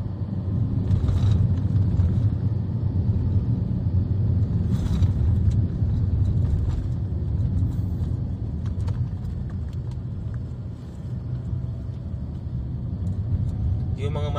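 A car overtakes on the zigzag road in Atimonan, Quezon, heard as a loud, steady engine and road rumble from inside a vehicle, with a voice talking over it.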